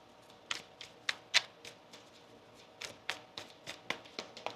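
Tarot cards being shuffled in a string of crisp, papery riffles and taps, loud bursts early then a quicker even run of shorter snaps, close up with no talking.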